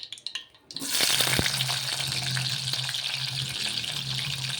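Onions hit hot oil for a chicken masala curry, a quiet moment giving way to a loud, steady crackling sizzle that holds evenly to the end, with a low hum beneath.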